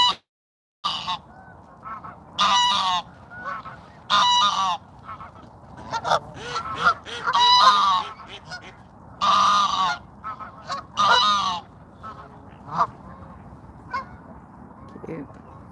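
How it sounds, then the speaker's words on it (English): Geese honk repeatedly in a park at sunset, loud bursts of calls in irregular clusters close by, with quieter gaps of ambient noise between them. "The birds are prettier."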